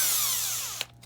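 A power drill fitted with a long extension and screw bit whirs down in pitch as it spins down, then gives two short sharp ratcheting bursts, close and alone without speech.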